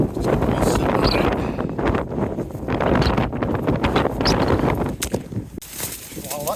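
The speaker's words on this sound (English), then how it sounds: "Wow, that sounds quite gusty." Gusty wind, around 25 mph or more, buffets a lightweight Black Diamond Distance tent, roaring steadily in loud broadband surges that ease briefly around the two-second mark and again near the end.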